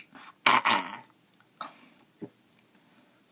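A man burps deliberately: one loud, rough belch followed by a few shorter, fainter throaty bursts spaced apart, with quiet pauses between.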